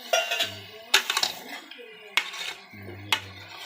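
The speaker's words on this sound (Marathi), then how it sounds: "एकदम व्यवस्थित मिक्स करून घ्या सुरुवातीला" A spoon stirring chicken and onion in a metal cooking pot in a village kitchen, clanking and scraping in irregular bursts with sharp knocks against the rim, while a voice talks quietly in the background.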